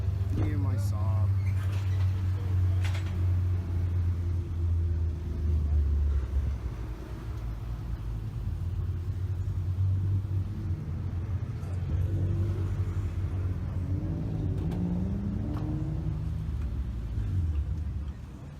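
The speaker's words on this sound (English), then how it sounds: "Hear my Saab." Deep, steady engine rumble from a Saab 9-2X car during street racing in Mexico, continuous low drone close by with slight rises, with people talking over it.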